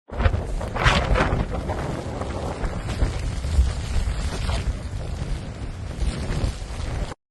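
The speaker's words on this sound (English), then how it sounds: "The wind is blowing at 25 to 30 meters per second." Loud, roaring wind of a snowstorm at 25 to 30 meters per second batters the microphone in continuous gusts, rumbling and blustering without letup for several seconds.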